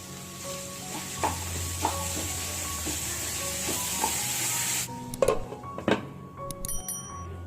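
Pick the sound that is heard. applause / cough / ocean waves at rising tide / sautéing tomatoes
sautéing tomatoes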